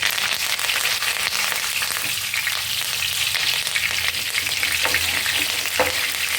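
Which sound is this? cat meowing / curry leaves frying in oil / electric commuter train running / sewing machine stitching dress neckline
curry leaves frying in oil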